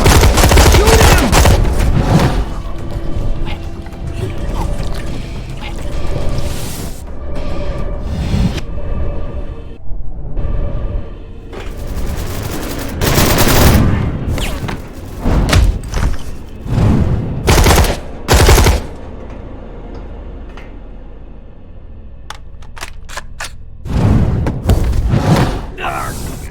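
Repeated bursts of gunfire aimed at an enemy in the video game DARK, loud and close, with rapid volleys and heavy thuds alternating with quieter stretches and voices talking in between.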